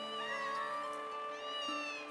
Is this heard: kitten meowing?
yes